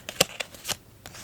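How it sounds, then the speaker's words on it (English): Tarot cards shuffled and drawn from the deck, a few crisp riffles and snaps close by, spaced apart in quiet surroundings. "Let's pull a couple of cards here."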